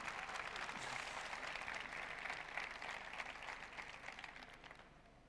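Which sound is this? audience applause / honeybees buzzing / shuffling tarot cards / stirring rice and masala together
audience applause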